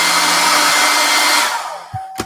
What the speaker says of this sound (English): Let me just hairdryer. I do own one.